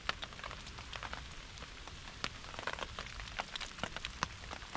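Heavy rain drums steadily on a Dutch Army hooped bivvy, a dense constant patter close overhead with sharper individual drops ticking through.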